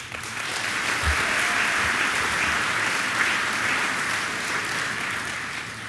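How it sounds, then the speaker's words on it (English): A school assembly audience applauds the Acorns and Oaks students, a dense, steady wash of clapping that fills the room at an even level from start to finish. "can we just get a round of applause for all the Acorns and Oaks?"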